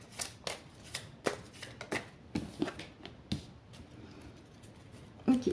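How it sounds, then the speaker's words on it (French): A deck of cards being cut and shuffled by hand, a string of crisp riffling bursts and soft slaps in an irregular rhythm, close and fairly quiet, with no talking. "je fais la coupe"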